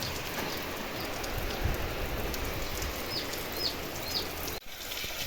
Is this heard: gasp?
no